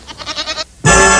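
Goat bleating in a quick, wavering series of pulsed cries that stops, then gives way to a loud burst of broadband noise.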